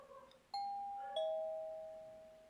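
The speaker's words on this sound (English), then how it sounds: "The doorbell rang again." A two-tone ding-dong doorbell chime rings once inside a visual novel game, each note clean and sustained, the second tone ringing out and decaying slowly over quiet background, with a brief murmur of music before.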